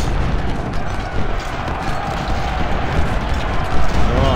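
Artillery fire in the Civil War strategy game Ultimate General: Civil War, a continuous dense rumble of cannon shots and distant booms rolling throughout, fairly loud, with a voice faintly mixed in.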